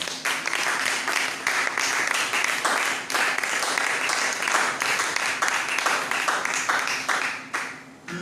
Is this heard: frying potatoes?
no